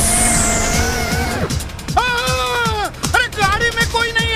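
A driverless car in the PUBG Mobile Lite game, its engine revving and rising and falling in pitch as it drives close by, loud and continuous.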